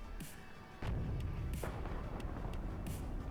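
2A3 heavy artillery in WARNO firing in support, a deep boom that kicks in and settles into a low, sustained rumble, with scattered sharper bursts and pops over the din.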